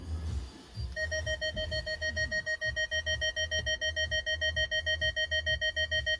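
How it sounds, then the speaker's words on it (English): A Nextbase 622GW dashcam starting up in a Ferrari FF: regular electronic beeps pulse steadily in a fast rhythm after a brief rustle, close and clear, continuing without pause. "So much beeping, love it."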